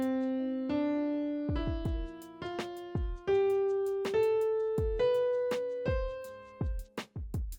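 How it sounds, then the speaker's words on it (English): A major scale is played note by note in FL Studio, a synth tone stepping steadily upward over a plucked percussive accompaniment, clear and moderately quiet. "So here is the major scale."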